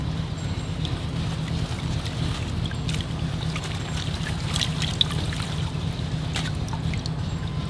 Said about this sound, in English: I think I'm ready to wash the roots. All right, into the water it goes.